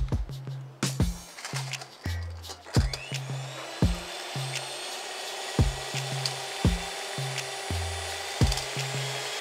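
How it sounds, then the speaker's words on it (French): An electric whisk whips meringue cream, its motor whirring steadily up close while the beaters knock and tap against the bowl in a loose rhythm. "Avec notre fouet électrique. Pour fouetter, oui, électriquement parlant."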